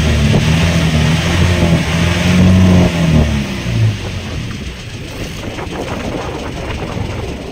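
A fishing boat's engine runs loud and close with a throbbing mid-pitched drone, then fades and thins out partway through, leaving washing water and wind noise behind.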